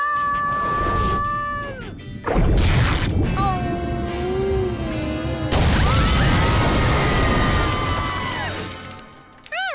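Cartoon cannonball jump into a swimming pool: a sudden loud splashing crash bursts in, followed by a second big splash, set among squeaky cartoon sound effects, music and a character's voice.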